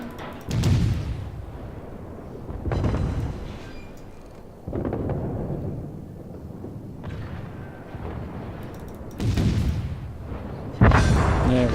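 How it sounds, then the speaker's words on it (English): Warship guns firing at an enemy ship in World of Warships: a handful of heavy, deep booms spaced a couple of seconds apart, each with a rumbling tail, loud and close, with no talk. "Concentrate fire on the enemy warship"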